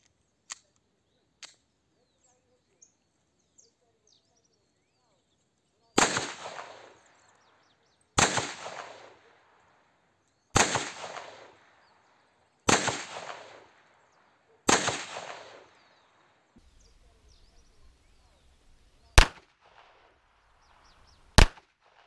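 Shots from a Zoraki M906-B blank pistol: about seven sharp, loud reports spaced roughly two seconds apart, each trailing a brief echo, with quieter clicks and handling noise before them in an otherwise still setting.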